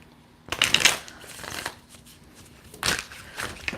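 Tarot cards are shuffled close by, with crisp riffling and flicking in two short bursts separated by quieter handling, and no talking.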